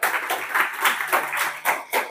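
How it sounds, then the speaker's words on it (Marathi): Listeners at a Marathi public lecture on the thoughts of great leaders and today's youth applaud loudly, the clapping rising and falling in quick, uneven surges for about two seconds. "एकदा जोरदार टाळ्या झाल्या पाहिजे"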